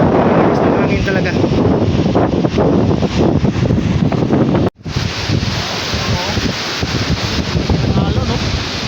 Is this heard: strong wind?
yes